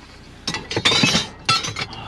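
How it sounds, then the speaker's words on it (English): Broken glass clinks and rattles inside a dumpster during a scrap-metal search, in several sharp, irregular bursts of shifting shards. "That's glass. There's broke glass in here."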